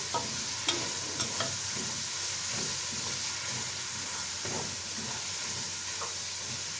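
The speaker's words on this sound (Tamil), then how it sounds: "ப்ரௌன் கலர் வரும் வரைக்கும் நல்லா பொரிஞ்சு வரட்டும்." Frying for a prawn biryani, with a continuous loud sizzle and hiss of oil and a few faint scraping stirs over it, heard close with no talking.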